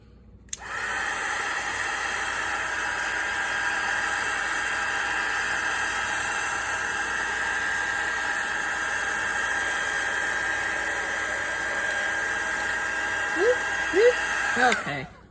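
A hair dryer blows steadily for about fourteen seconds while drying an altered playing card for Valentine's Day, a loud even whooshing hiss that starts abruptly and cuts off near the end, with faint handling sounds just before it stops.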